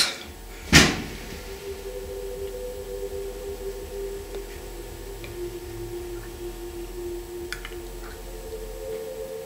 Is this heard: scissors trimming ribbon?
no